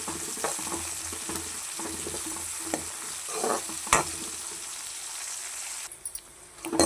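Curry leaves and onion sauté in hot oil for a yam (karunai kilangu) gravy: a close, steady sizzle with repeated scraping stirs of a spoon in the pan, fading toward the end.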